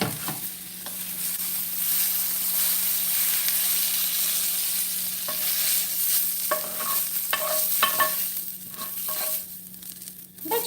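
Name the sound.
onions frying over fried sausage in pan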